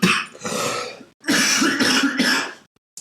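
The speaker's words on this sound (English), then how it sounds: "Hold on, I got a cough." A person coughs hard and repeatedly, with throaty hacking and throat clearing in two close, loud fits separated by a brief pause, then a short catch at the end.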